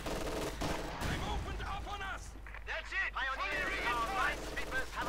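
Rapid bursts of small-arms and machine-gun fire crackle through a 1v1 Company of Heroes 2 match, continuous and layered at moderate volume beneath a caster talking over the action.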